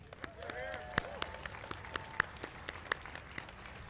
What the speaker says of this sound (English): A round of applause for the people that put this parade together.